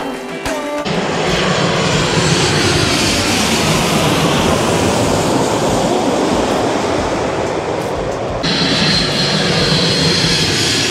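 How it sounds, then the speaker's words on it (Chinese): A fixed-wing airplane passes low overhead at a plane-spotting spot near Taoyuan airport, a loud, sustained broadband engine roar that fills the whole stretch with no voices, its hiss shifting partway through as the aircraft moves past. "从刚刚到现在也看了好几台大大小小不同的飞机"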